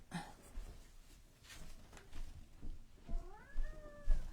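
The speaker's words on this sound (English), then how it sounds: "Let me let this cat out because he's just going to sit there and dig at the door." A cat meows at a door indoors, several short close meows with a drawn-out rising and falling call near the end, plus some soft scratching sounds.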